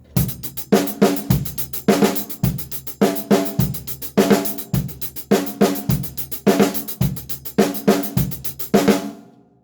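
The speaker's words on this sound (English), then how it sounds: "What about adding a snare drum to the, I don't know, the E of 4?" A drum kit plays a steady hi-hat groove with kick and snare, adding an extra snare hit on the e of beat four. The bar repeats in a tight, even loop, loud and close, with no talking.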